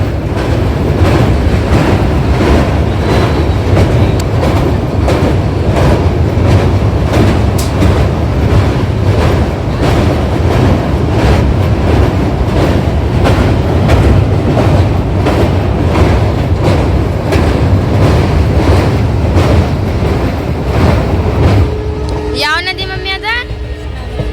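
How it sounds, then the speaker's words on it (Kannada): A passenger train pulling out after a long wait, the steady rumble and rhythmic clickety-clack of rail wagons filling the whole stretch, loud and close, with a voice talking over it and the noise dropping away at the end. "ಫೈನಲಿ ನೋಡ್ರಿ ಈಗ ಎಷ್ಟೊತ್ತಾದ್ಮೇಲೆ ಟ್ರೈನ್ ಬಿಟ್ಟೈತಿ"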